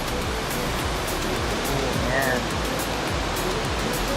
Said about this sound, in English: Anytime you see the word foss, this means waterfall in Icelandic, so you know this is a waterfall.